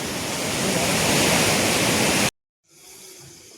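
The Kali Gandaki river roars loudly in a dense, steady rush of water for about two seconds, then cuts abruptly to a much quieter murmur.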